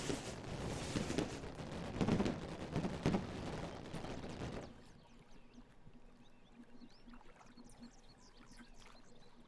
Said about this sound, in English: God, those fireworks are distracting.